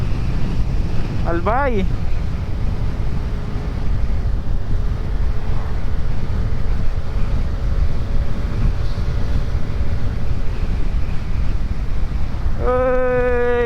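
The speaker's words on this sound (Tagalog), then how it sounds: "lakas ng hangin" Strong wind buffets the microphone during a road ride in Bicol, Camarines Sur, a steady loud low roar lasting throughout, with a brief spoken word and a couple of short tonal beeps near the start and end.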